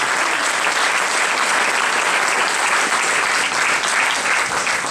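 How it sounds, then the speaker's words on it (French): A large audience at the Unis-Cité 20th-anniversary celebration applauds four women creators, producing loud, dense, unbroken clapping that holds at an even level for the whole stretch. "on vous applaudit les 4 créatrices"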